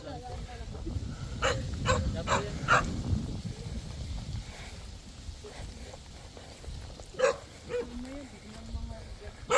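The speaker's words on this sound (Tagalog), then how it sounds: "Ang dami pa alaga silang aso." Dogs at a neighborhood house barking in short sharp bursts with a few whimpers, fairly faint and spread out, amid footsteps and background voices.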